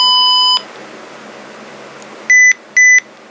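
A steady electronic tone from a Midland, G-Storm or RadioShack weather radio sounds for about half a second, then after a pause two short identical beeps follow in quick succession, clear against a faint hum.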